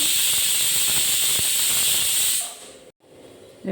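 A pressure cooker, used for cooking a chickpea dish, vents steam in a loud, steady hiss for over two seconds, then cuts off abruptly and leaves a quieter kitchen background.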